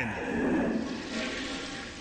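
A toilet flushes in a short, loud burst of swirling, gurgling water that holds steady for about two seconds, with no speech over it.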